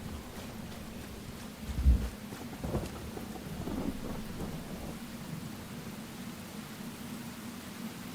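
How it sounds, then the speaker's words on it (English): Thunder rolls over steady rain in the game Enshrouded, with a deep boom near the start, a few fainter rumbles after it, and a constant rain hiss throughout, no talking. "maybe that was thunder that I was hearing"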